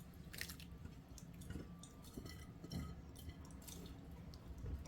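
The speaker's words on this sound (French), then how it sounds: "je vais verser le restant de pulpe d'aubergine" Leftover aubergine pulp is poured into a dish for gluten-free beef and aubergine lasagne, giving soft wet squelches, drips and plops that come in small bursts, close and fairly quiet.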